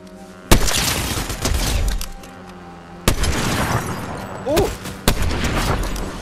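Three loud sniper rifle shots ring out in the Fortnite video game, spaced a couple of seconds apart, each with a booming tail, and a brief vocal sound comes between the last two.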